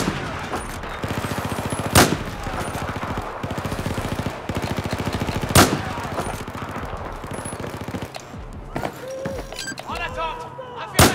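Gunfire in the Battlefield 4 video game during a mission in Tashgar: rapid loud machine-gun bursts with two sharp heavy shots standing out, followed by scattered single shots and game sounds.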